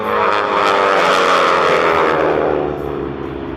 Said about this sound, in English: Here comes the Aeroshell Aerobatic team in the formation.